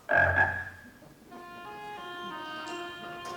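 A frog lets out a loud, close croak, then a lower, drawn-out tonal croaking follows with steady resonant pulses, alone without any voices.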